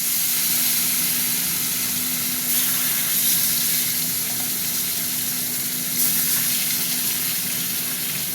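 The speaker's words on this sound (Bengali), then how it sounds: "আর 3 টুকরো আছে, ভেজে নিই।" Pieces of fish fry in hot oil in a pan, giving a steady, loud sizzling hiss that continues evenly with no talking.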